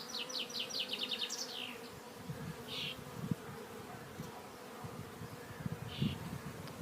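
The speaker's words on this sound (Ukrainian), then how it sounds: "Ця кружляє, ця ознайомлюється. Ось вона біла міточка. Туди-сюди літає." A queen bee circles on an orientation flight near the hive, heard as a soft intermittent buzzing drone over quiet outdoor background, with a few brief higher chirps nearby.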